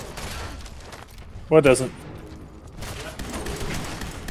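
Scattered gunfire in the video game Fallout 76, fairly soft shots under people talking, with a short spoken exchange in the middle.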